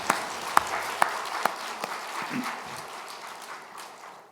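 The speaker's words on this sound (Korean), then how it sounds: "박수 주십니다." Applause during a church service: a few sharp claps start it off, then a softer spread of clapping from the congregation fades away over several seconds.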